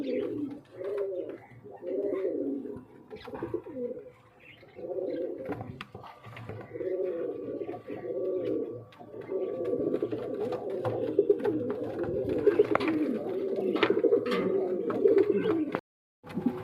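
A Coco Rani pigeon pair coos repeatedly and close by in a loft, rhythmic throaty bursts with short pauses, a few faint chirps around them and a brief drop near the end.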